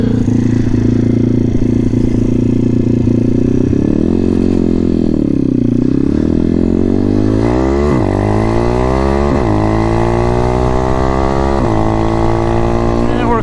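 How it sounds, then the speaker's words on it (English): M2R RF160 road-legal pit bike engine revving hard and climbing through gears using a kill-switch shift, loud close engine note with repeated pitch drops at each gear change, a rider's voice faintly underneath. "It's not really a quick shifter, just open the throttle and hit the kill switch button every time you change gear."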